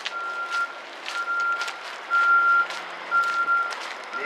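A bus's backup alarm beeps in a steady repeating pattern as the vehicle reverses, with a low engine hum underneath and a few louder passes.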